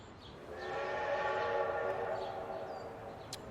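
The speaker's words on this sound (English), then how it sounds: "Train is back with grain." In the post-war city builder game Kapital, a train pulls in with a drawn-out, swelling horn-like tone over a rumbling rail bed, fading gradually toward the end.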